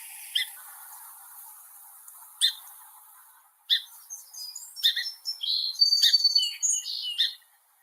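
A small songbird sings in a clear recording, a few isolated high chirps giving way to a rapid, trilling run of bright notes, close and alone.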